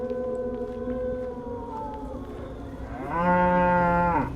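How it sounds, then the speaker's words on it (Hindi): A buffalo in a desi Indian horror video game lets out a loud, drawn-out moo, its call rising and swelling in the last second before cutting off, with no talk over it. "भाई ये भैंसिया कब से बुला रही है यार।"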